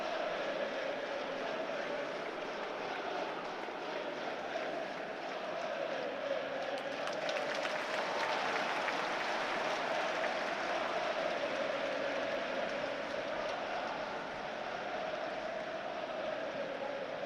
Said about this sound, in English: Crowd on their feet, clapping every